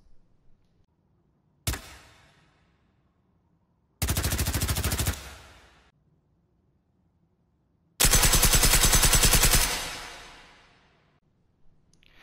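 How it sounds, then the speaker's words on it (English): Silenced Capist and HP5 submachine guns fire in the shooter game Generation Zero: one single shot, then a short rapid burst, then a longer burst with a fading tail, each separated by quiet. "I believe the gunshot sound effect was also a lot louder for the Capist"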